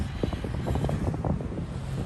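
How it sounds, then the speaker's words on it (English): Wind buffets the microphone in a steady low roar with gusty rumbles on the cold Appalachian Trail, no voices, just blustery outdoor air. "It's windy and pretty cold"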